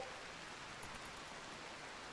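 Steady rain in the colony-building game Rimworld, a continuous soft hiss of falling drops that fills the whole stretch evenly at low volume with no voices.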